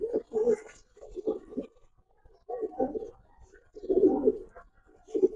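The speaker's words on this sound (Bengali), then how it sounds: "সুন্দর কবুতর, অনেক সুন্দর" Racer pigeons, including a chocolate grizzle, coo in several soft, low, throaty bursts at close range, with short pauses between the groups of calls.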